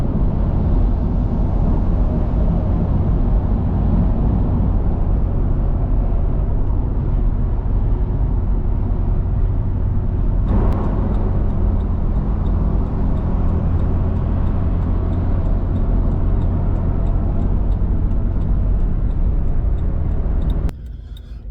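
A four-wheel drive truck moves through traffic, its engine and road noise forming a loud, steady rumble for about twenty seconds with a slight shift midway, cutting off abruptly near the end.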